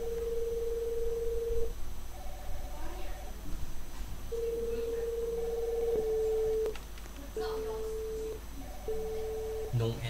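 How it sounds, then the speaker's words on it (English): A telephone rings in a repeating pattern of steady electronic tones, several separate bursts spread over ten seconds, fairly loud over a constant low hum and background noise. "Now the phone is ringing."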